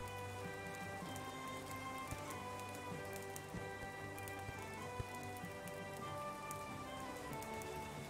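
Steady rainfall pattering on surfaces in the farming and survival game Clanfolk, a continuous even hiss with faint scattered drops and a low ambient hum beneath, quiet and unbroken throughout.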